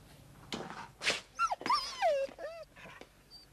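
A dog in a racing stable whimpers and yips in a run of high, thin, wavering whines, some rising and falling in pitch, fairly close with short pauses between cries.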